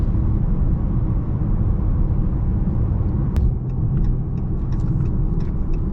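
Dodge Charger SXT on 22 inch rims driving on a freeway, a loud steady rumble of engine and road noise from inside the cabin with no talking.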